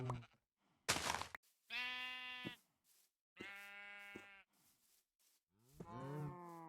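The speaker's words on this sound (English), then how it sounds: "We also have our local red sheep here" Drawn-out, buzzy bleats from a red sheep in a video game, three separate calls with short silences between, the last wavering in pitch, fairly clear and close with no talk.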